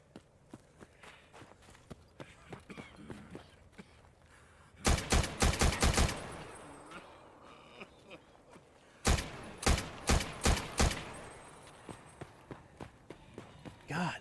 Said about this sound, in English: God, this gun is loud